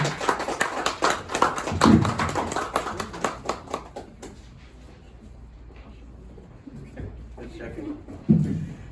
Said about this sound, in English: let's all give a big round of applause to our great Senator Joe Addabbo